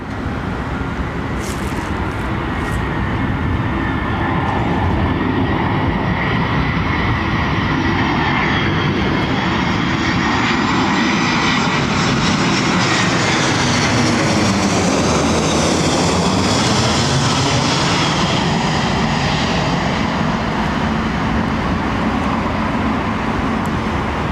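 Airliner engines at London Heathrow Airport roar steadily and loudly, with a broad rumble that swells and shifts in pitch around the middle as an aircraft moves past, without talk.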